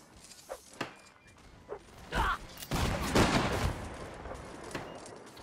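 Musket fire during a hardcore line battle in a Napoleonic Wars video game: scattered distant shots crackle, then a rolling, dense volley swells for about a second and fades, with a few stray reports after and no talk over it.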